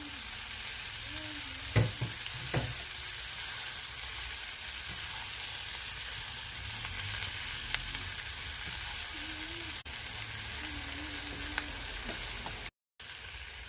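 Tomatoes, peppers and chilies cook in a pan for chicken choukouya, giving a steady, close sizzle with a few soft scrapes and knocks and a short drop-out near the end.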